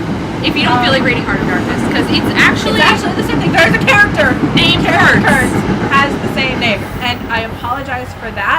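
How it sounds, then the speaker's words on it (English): A train rumbles past on a railroad track about six feet from a backyard, a steady loud roar that runs throughout beneath continuous talking. "Trains. That is a train. I live about 6 feet away from a railroad track"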